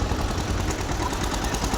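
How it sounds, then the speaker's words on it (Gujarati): A tractor engine rumbles continuously at a steady idle, low and close, with no other sounds. "હવે મારું ટ્રેક્ટર વળતું"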